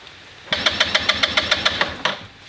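A Buddy 125 scooter engine fires when given throttle, popping out a rapid, uneven string of about ten sputtering pulses over roughly a second and a half before dying back down. It sounds close and fairly loud.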